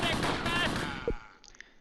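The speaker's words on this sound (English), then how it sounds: "They're definitely still shooting there, but we're not getting hits" Gunfire in the Close Combat WWII tactical game, set around Tourville in June 1944: a dense burst of shots and rumbling reports for about a second, then a single sharp crack and a few faint distant pops, with voices talking over it.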